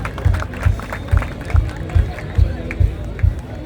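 An audience claps in a steady rhythm of strong beats, roughly two per second, with crowd murmur underneath, loud and close throughout.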